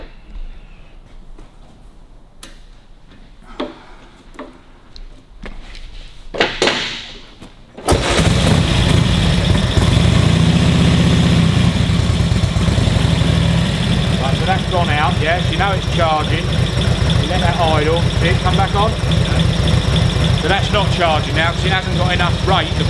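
Harley-Davidson WLA motorcycle engine kick-started after a few quiet clicks and a kick, catching and settling into a loud, steady idle with a low thumping rhythm, close by, with people talking over it.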